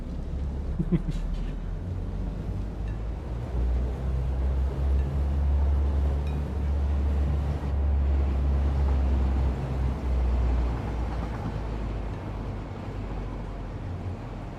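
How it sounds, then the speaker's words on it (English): Train running in the video game Satisfactory, a steady loud low rumble with sustained engine-like drone throughout, with faint noise above and a brief clank near the start. "Trains are too loud."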